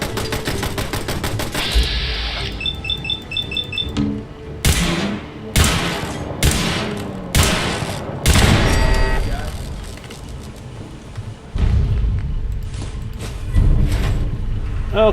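Automated turret gunfire in Fallout 4, sharp loud bursts of shots repeating in uneven volleys with booming impacts over a busy game soundscape.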